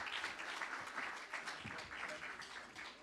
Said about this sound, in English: Thank you very much, and please, big applause.